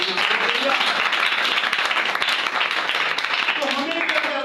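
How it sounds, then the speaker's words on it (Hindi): A congregation at a church sermon in a Hindi-Urdu service claps loudly and continuously, with voices carrying over the steady applause. "उस बात के लिए जोरदार तालियां।"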